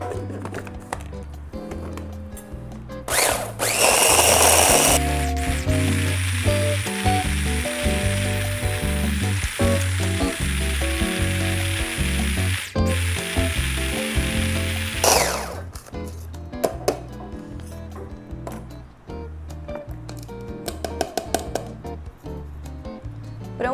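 Electric blender grinding coarse salt with seasonings: a loud whirring motor roar with rattling grit, running in bursts that stop and restart, with choppy pulses in between.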